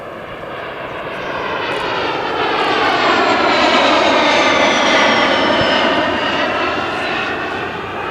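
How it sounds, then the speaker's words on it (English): A Cirrus Vision SF50 light jet makes a fly-by at about 250 knots at an airshow, a loud rising and falling jet roar with a descending whine as it passes close and moves away, no talk. "Terry Lesage, the Vision SF50 Vision jet, will make a pass by 250 knots indicated airspeed"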